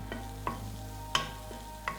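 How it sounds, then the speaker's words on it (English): Onions sizzle softly in a soup pot under a low, steady frying hiss, broken by a few sharp clinks and scrapes of stirring spaced about half a second apart. "I can hear the onions sizzling"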